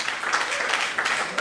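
A church congregation claps together during a worship seminar in Martinique, a steady dense wash of applause filling the space with a few swells, voices mixed faintly underneath.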